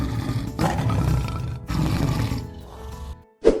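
A toy tiger plays a recorded roar in two long, loud bursts separated by a brief gap, followed by a short clicking sound at the end, with no talking.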